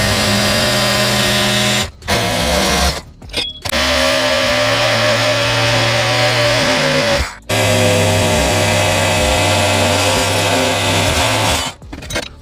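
A hacksaw cuts through a metal support brace on a 2002 Chevy Corvette. It makes a loud, continuous grinding rasp that runs for long stretches, broken by a few brief pauses.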